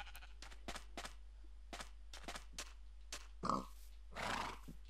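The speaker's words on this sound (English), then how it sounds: "Ooh, horses. Love them." Horses in the Minecraft video game make a run of short snorts and whinnies at moderate volume, with a few louder calls near the end. No one speaks over them.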